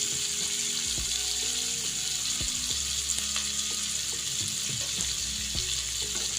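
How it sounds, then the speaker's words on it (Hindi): Paneer cubes sauté in oil in a kadai with Kashmiri red chili powder and turmeric, giving a steady bright sizzle with scattered clicks and scrapes from stirring throughout. "अब इसे थोड़ी देर सौटे कर लेंगे।"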